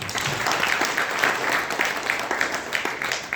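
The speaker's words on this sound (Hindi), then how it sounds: "एक बार जोरदार ताली" Hearty applause from an audience at an Arya Samaj Vedic bhajan gathering in Model Town, a dense steady wash of claps with a few sharper individual claps standing out, lasting the whole moment with no talk.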